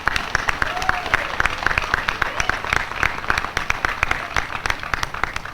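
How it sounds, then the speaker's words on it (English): An audience applauds at a 2018 commencement ceremony, the claps dense and steady throughout, with faint voices mixed into the crowd noise. "how about another round of applause for this great faculty and staff"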